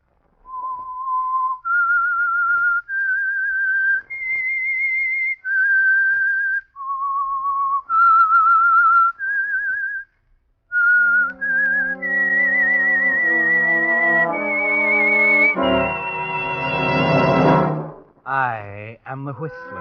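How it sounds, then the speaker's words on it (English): A lone whistler on an old radio mystery drama slowly whistles an eerie tune, clear and prominent. An orchestral sting with rising strings and brass then swells over the last notes. "That whistle is your signal for the Signal Oil Program"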